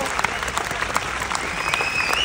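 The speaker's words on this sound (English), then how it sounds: "You can clap, but you don't need to clap." A seminar audience claps steadily throughout, a dense patter of many hands filling the room at moderate loudness, with faint murmuring underneath.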